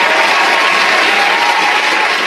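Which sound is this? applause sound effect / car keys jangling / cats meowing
applause sound effect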